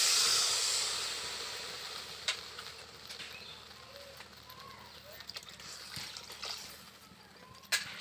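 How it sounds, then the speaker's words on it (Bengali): Water hits a hot frying spice mixture in a pan, starting with a strong sizzling hiss that fades into softer bubbling and crackle, with a few sharp spits along the way. "এবার জল দিয়ে দেব।"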